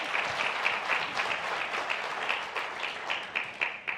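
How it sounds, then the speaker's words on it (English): An audience claps steadily in a room, a dense and even patter of many hands at moderate loudness that continues through the whole stretch without voices. "So thank you all for being so generous with your applause and appreciation."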